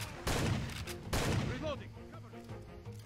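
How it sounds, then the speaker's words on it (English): Gunfire in the video game Far Cry 2, two loud sharp shots about a second apart, each with a long echoing tail, followed by fainter background noise and brief voice sounds. "Who are you even shooting at?"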